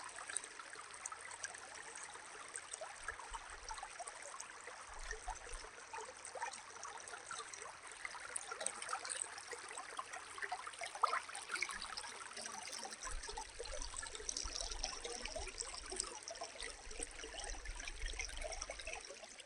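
Steady babbling and trickling of a creek flowing over rocks at Emerald Hollow Mine in Hiddenite, North Carolina, constant and close, with no voices.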